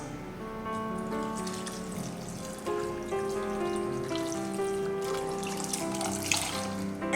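Water is poured into a pressure cooker holding soaked raw peanuts, a steady close splashing pour over a faint background hum, with no talking.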